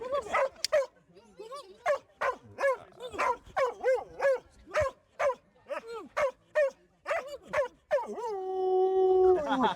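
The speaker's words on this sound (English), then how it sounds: "we're interviewing dogs" Dog at an outdoor festival giving a rapid series of loud barks and yelps, rising into a drawn-out howl at the end, close by.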